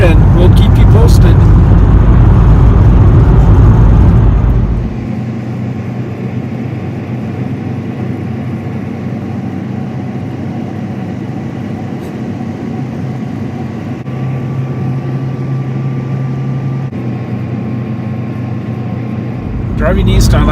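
A van travelling east on the I-70 highway between Silverthorne and Denver makes a steady interior road and engine rumble, heavier and louder for the first few seconds, then settling into an even drone.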